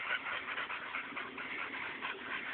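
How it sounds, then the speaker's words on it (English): A pack of pit bull dogs heard at a moderate distance, giving soft whimpers and whines with some panting, a restless continuous murmur of dog sounds with no speech. "That's a pit bull pack for you, right there"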